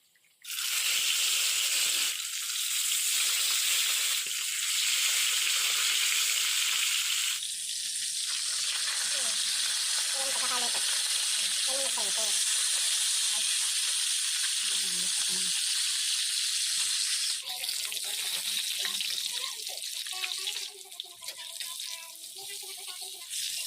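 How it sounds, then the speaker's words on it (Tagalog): Tilapia fish frying in hot oil, a steady broadband sizzle that runs loud and continuous throughout, with occasional crackles and faint voices in the background. "Kapag okay na lahat ay umpisahan ng iprito ang isda."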